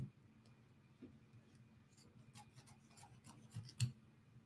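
Scissors trimming fabric close to a stitching line for a bench pillow, faint snips and rasping cuts in an irregular rhythm, quiet and close.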